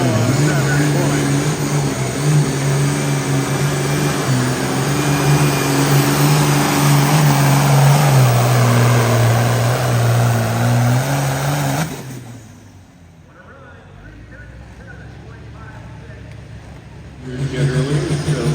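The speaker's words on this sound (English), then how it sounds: "Back to the pulling. Yeah, back to the tractor pulling." A tractor pulling at the Jones County Fair truck and tractor pull roars loudly and steadily with a rising and falling engine pitch, drops away abruptly, then surges back near the end.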